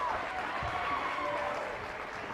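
Crowd clapping in the stands at a high school basketball game, Marion vs Inman, a spread of applause mixed with crowd murmur and a voice talking over it.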